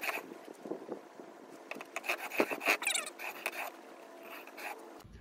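A steel chisel rubbed back and forth on a sharpening stone, giving repeated close, rasping strokes of moderate loudness with no talking.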